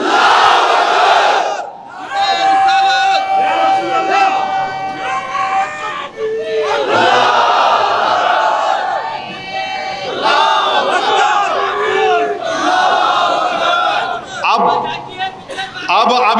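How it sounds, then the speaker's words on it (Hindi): A crowd at a political rally chants the Nara-e-Takbir slogan, loud massed voices roaring in repeated bursts with brief lulls between them. "अब लगाओ नारा, नारे तकबीर।"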